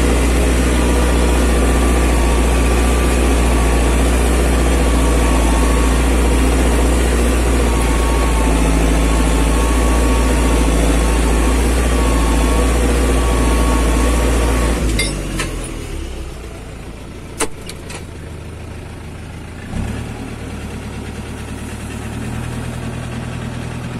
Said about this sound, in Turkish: Gidiyor traktör.